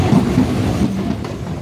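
A train rolls along its rails on a long-distance journey from Kolkata to Ayodhya, heard as a loud, steady low rumble with faint rhythmic clatter from inside the carriage.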